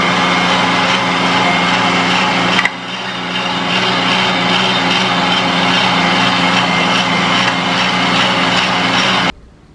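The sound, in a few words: electric meat grinder grinding meat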